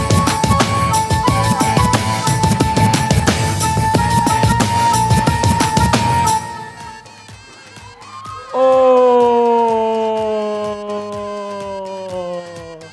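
A game show audience claps and cheers in a dense, loud burst for several seconds, then the crowd noise gives way to sustained musical tones.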